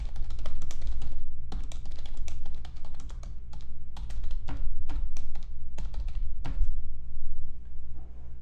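Fast, close typing on a computer keyboard while a blog post is written, with bursts of key clicks separated by short pauses and a low steady hum underneath.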